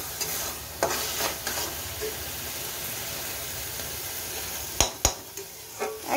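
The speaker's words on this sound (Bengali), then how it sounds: "আর একটু নাড়িয়ে চাড়িয়ে" Pointed gourd and prawns frying in a pan, stirred with a utensil: a steady low sizzle runs throughout, broken by a few scraping stirs and sharper clatters near the end, close and fairly quiet.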